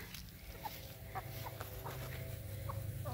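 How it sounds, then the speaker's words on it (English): Chickens in a henhouse clucking softly, a few short scattered clucks over a steady low background of rustling and farm noise, no talk. "And here's all the chickies."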